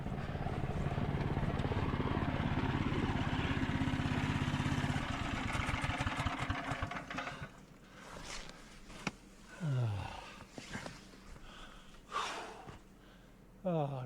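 A video game vehicle engine with its throttle jammed open roars in a loud, steady drone for about five seconds, then cuts off, followed by breathy gasps, snorts and other vocal noises.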